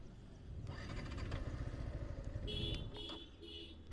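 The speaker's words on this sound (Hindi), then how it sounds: "यहाँ सुनाऊंगा आपको इस बाइक का साउंड" A Yamaha R15 motorcycle engine runs steadily at low volume, with rumbling low-end and some clattering mechanical noise throughout.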